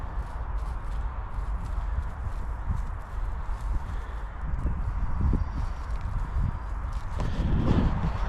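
Horses walking in a city, hooves clip-clopping in a steady loose rhythm over a rumbling street background, getting a bit louder and nearer toward the end.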